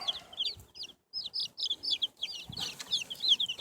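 Easter Egger chickens in the yard give a run of quick, high-pitched clucks and chirpy calls, close and fairly loud, broken by one brief pause before the calling picks up again.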